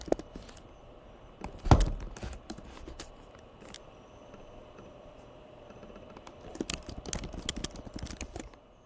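Keys tapped on a computer keyboard, scattered clicks in short bursts, some louder taps near the start and a quicker run toward the end, close and alone.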